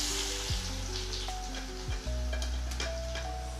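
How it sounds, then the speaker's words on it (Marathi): Garlic and cumin seeds sizzle steadily in hot oil while frying for a Maharashtrian methi bhaji, a continuous close crackle with occasional clinks of a spoon stirring the pan, no voices. "लसूण लालसर असं होऊ देपर्यंत तळायचं"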